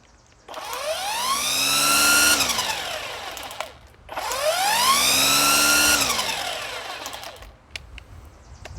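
A Ryobi 18V brushless string trimmer on its low setting spins up twice in succession: each run climbs in pitch to a loud, steady whine, holds, then winds down. The sound is close and clear, with no talking.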